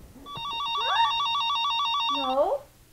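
A telephone bell rings steadily at a family reunion gathering, a bright sustained electronic trill lasting a couple of seconds and cutting off abruptly, with a sliding tone and faint talk around it.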